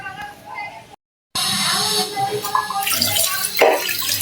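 Tangra and pabda fish being washed under running water, a steady splashing rush that cuts out briefly and resumes, with a voice faintly present.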